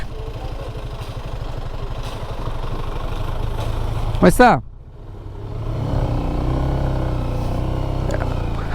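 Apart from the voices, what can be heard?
Jeep driving past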